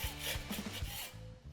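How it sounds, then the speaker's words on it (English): A scraper dragged across a concrete coating on a wooden bar, giving one close, rough scrape lasting about a second and a half. "I can also use my scraper, scrape stuff off"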